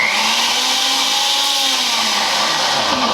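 A blender whirring through a vegetable mole, a loud steady motor drone with a slight pitch wobble, running continuously and close up.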